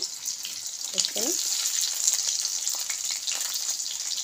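Onion frying in hot oil gives a steady, close hiss of sizzling that runs the whole time, with a few brief clinks and a little stirring partway through.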